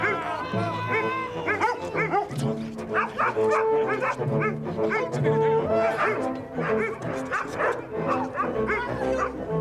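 Hounds bark and yip repeatedly in a film scene, a dense pack of barking carried over a continuous orchestral score, loud and busy throughout.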